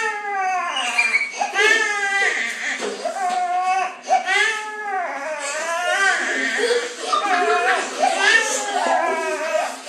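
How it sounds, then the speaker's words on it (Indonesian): A baby cries in loud, wailing bursts, each sob rising and falling in pitch, repeated over about ten seconds with brief breaths between them. "Suara anak bayi."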